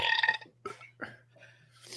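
Several burps from a man during a live talk show, the first one long and strained, followed by shorter gulping belches close to the mic with a faint steady hum underneath.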